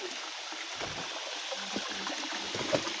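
Steady rushing and trickling water fills the clip, like a small waterfall flowing nearby, with scattered voices and faint movement noises over it.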